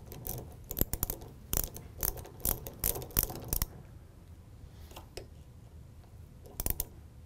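Adjustable stop on a Dow dial gage being tightened down, a series of close, sharp metallic clicks and ratcheting ticks, clustered at first, then sparse, quiet and alone.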